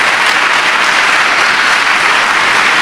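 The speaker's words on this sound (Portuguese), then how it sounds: "E as palmas são para Jesus." A church congregation claps loudly and steadily together, a thick continuous roar of applause with no voices on top.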